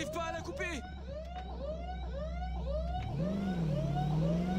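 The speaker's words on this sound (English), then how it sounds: "Alarm's going off and everything else." An alarm wails in Cyberpunk 2077 Phantom Liberty, a siren-like warbling tone that repeats in rising sweeps and then shifts to a slower rising and falling wail, loud under faint game noise, with no talking.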